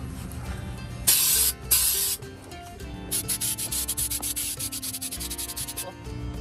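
Spray paint hisses over rust on an RV in two loud sustained bursts, followed by a rapid series of short pulsing sprays with a low background rumble.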